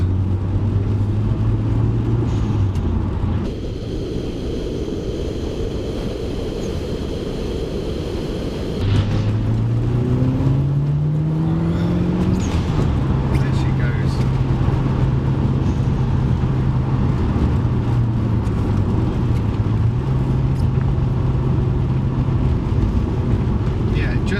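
A Mitsubishi Evo or Lancia Evo rally-bred car is driven hard on a road, its engine note climbing and falling through the gears with a brief lull, loud and close over road and wind rumble, with a voice talking over part of it.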